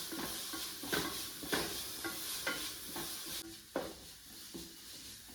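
Green chilies, ginger and garlic are stirred in a hot pan for a chicken coconut milk kurma, steady sizzling with repeated scraping strokes of a spoon roughly every second, close and clear with no talking.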